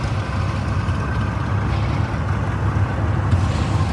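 A Massey Harris combine rumbles past in a tractor parade, a loud, steady low engine drone with broad outdoor noise that holds evenly throughout.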